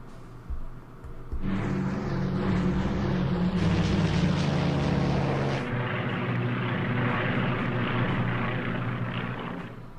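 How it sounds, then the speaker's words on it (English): Aircraft engines in the strategy video game Strategic Command, a loud, steady propeller drone that kicks in suddenly and holds with a rough mechanical hum, swelling briefly and then settling, with no talking. "Lots of aircraft deployed to the center."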